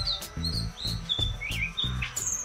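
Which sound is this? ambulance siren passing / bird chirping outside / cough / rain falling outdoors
bird chirping outside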